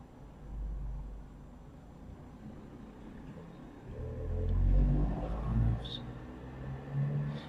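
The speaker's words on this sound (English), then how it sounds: "the traffic noise I have to contend with." Outside traffic passes with low rumbling swells, a car surging louder in the middle and fading, moderately distant under a quiet room.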